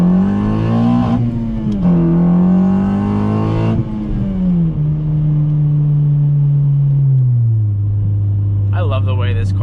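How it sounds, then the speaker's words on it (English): A Honda Civic's VTEC engine revs hard under acceleration from inside the car, a loud, steady droning note that climbs in pitch, drops at shifts and climbs again. "I love the way VTEC sounds"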